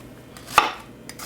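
A single knife chop lands on a board while onions are cut into large chunks, one sharp close knock amid quiet.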